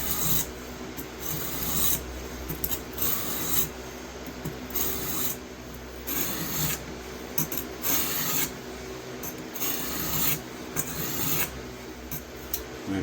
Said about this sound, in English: just want to get an even grind, an even angle all the way down.